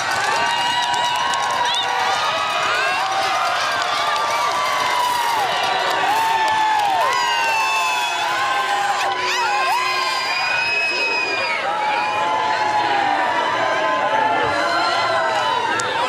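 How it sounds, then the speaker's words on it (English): Large crowd roaring and cheering at the 2019 Iditarod finish line in Nome, a sustained loud wall of voices with high whoops and shouts rising and falling across the whole stretch. "Again, you hear the roar of the crowd."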